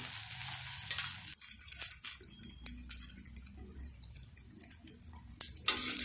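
A thick tomato and wheat rava dosa fries in oil on a hot pan, a soft steady sizzle with occasional faint scraping and clinks, fairly quiet and close, without speech.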